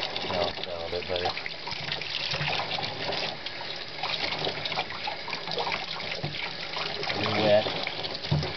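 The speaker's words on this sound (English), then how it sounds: "let me put some water" Water running from a tap to fill a baby's bath, a steady trickling flow heard close by while people talk over it.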